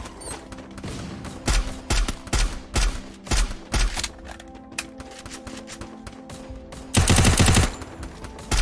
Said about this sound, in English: Firing shots are still on.